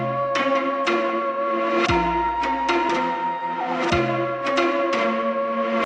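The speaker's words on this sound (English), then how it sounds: "together with another string layer, a bass and a flute melody. The sample sounds like this." A trap beat sample layering plucked pizzicato strings, a bass and a flute melody, with a steady run of sharp percussive hits and a deep low bass swell partway through, played loud throughout with no voices.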